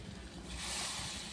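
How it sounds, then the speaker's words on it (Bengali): Water pours steadily into a pan of fish curry with lentil dumplings, a rushing, splashing wash that swells and grows louder halfway through, with no voices. "এবার দেবো পানি"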